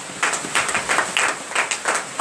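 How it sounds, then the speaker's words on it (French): A church congregation at a Tuesday morning prayer service in Comè, Benin, applauds in rapid, ragged bursts of hand claps that swell and fade in uneven waves, fairly close and with no voices over it. "Donnez l'acclamation à l'Éternel."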